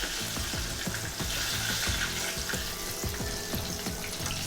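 A chicken cutlet fries in a pan, a continuous bright sizzle with crackling pops, steady and close, with no talking.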